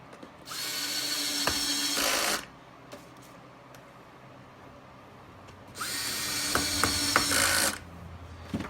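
Two long bursts from a power drill driving large screws while a pressure washer's handle is assembled, a high whirring close by with brief clicks and a quiet pause in between.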